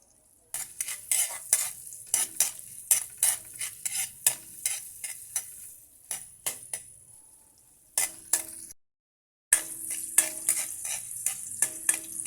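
Ginger sautéing in a pan for Filipino mussel tinola, close stirring strokes scraping and tapping in quick rhythm over a steady sizzle, with a brief silent gap before the frying resumes.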